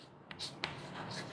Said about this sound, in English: So let's write these consonants again.